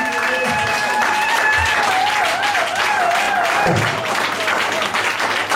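A church congregation applauds during a worship service, with loud continuous clapping and cheering mixed with voices and a sustained sung or shouted tone over it.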